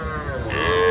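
A native desi calf moos once, loud and close, at a busy cattle market in Ranigonj near Ghoraghat, Dinajpur, with a steady crowd murmur behind it.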